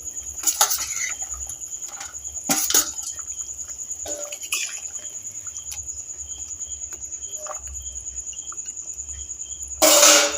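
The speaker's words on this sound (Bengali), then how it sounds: "আলু সেদ্ধ হয়ে গেছে, এবার আমি মাছগুলো দিয়ে দেব" Cooking a fish and potato dish: pieces of fish are placed into a pot of boiled potatoes with clinks of metal utensils against the pot, brief scrapes and a louder clatter near the end, over a steady high insect-like hum.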